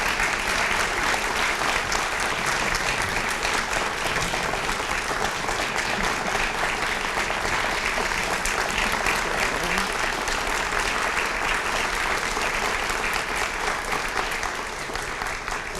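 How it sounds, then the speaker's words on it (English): Sustained audience applause at a pro bono recognition event, dense and steady clapping filling the room for about fifteen seconds with no break. "Let's give every one of these a round of applause."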